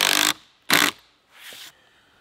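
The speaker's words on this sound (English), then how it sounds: "Come on down here with that drill." Power drill running in three short bursts during a deck build, two loud close whirs followed by a softer, longer one, with brief pauses between.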